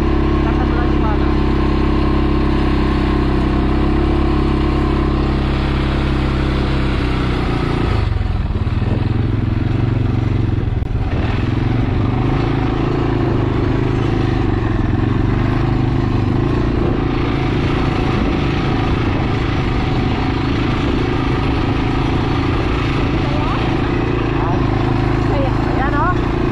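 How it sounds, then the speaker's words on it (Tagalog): A quad bike engine runs steadily on the Lancelin sand dunes, a close, loud, continuous drone that shifts briefly in pitch partway through, while people talk over it. "Medyo maingay lang itong motor."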